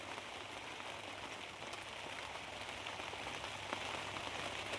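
Heavy rain pours steadily onto a surface at a rural farm, a dense, unbroken hiss that holds at an even level throughout with no voices.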